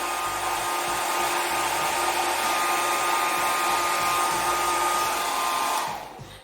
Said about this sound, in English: a warm blow dryer to help dry it quickly